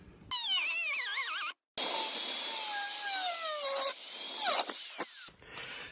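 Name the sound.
grinder cutting out rusty Jeep XJ floor pan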